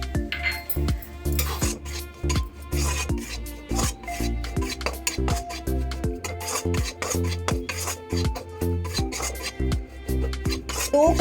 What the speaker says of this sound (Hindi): अब मुझे आटा भूनना है 2 कटोरी।